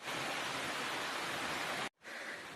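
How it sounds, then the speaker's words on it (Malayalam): Steady heavy rain falls outdoors, a dense continuous hiss that cuts out briefly near the end before resuming. "പുറത്താണെങ്കിലും നന്നായിട്ട് മഴയുണ്ട്."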